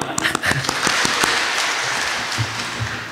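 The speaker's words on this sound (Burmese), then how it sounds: "ရှိတယ်လို့လက်ထောင် လက်ခုပ်တီးပြအောင်" Audience applause in a church during a Burmese-language sermon, a dense, steady patter of many hands clapping at moderate distance for several seconds, with a few sharper individual claps standing out.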